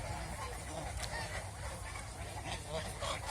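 Geese on a farm pond honk repeatedly, a busy cluster of calls from a flock bathing in water after feeding, heard at moderate distance.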